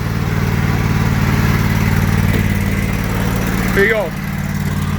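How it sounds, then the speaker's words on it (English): Lawnmower engine running with a steady loud mechanical drone and rhythmic throb close by, briefly dipping near the end, while someone speaks over it. "It's my father's lawnmower."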